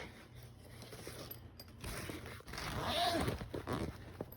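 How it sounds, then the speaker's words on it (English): Backpack zipper being pulled open, a close, faint rasping slide lasting about two seconds, with soft handling scrapes before it. "Unzip it, open it up, open these things up, take bag,"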